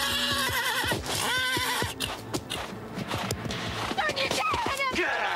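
A horse whinnies loudly a couple of times over clopping hooves, with people talking around it.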